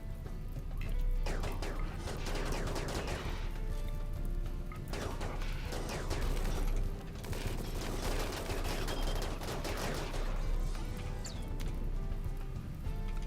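Rapid bursts of cannon fire and impacts from an Inferno Cannon in RimWorld form a dense, fairly faint barrage of repeated cracks and crashes throughout, with brief speech mixed in.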